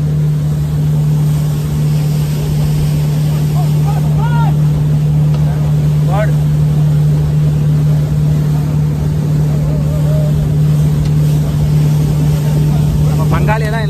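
Speedboat engine during a boat ride, a loud continuous drone with a steady low hum and rushing water, with voices talking faintly underneath.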